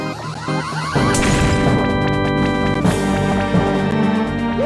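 Bombs in New Super Mario Bros. Wii burst with a sharp crashing boom over the bright, steady game music, followed by further lighter impacts.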